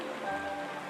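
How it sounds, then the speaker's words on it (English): Rain falls in the video game Honkai Star Rail, a short, steady hiss of drops on a surface with faint tonal music lines above it and no voices. "This is the sound of rain."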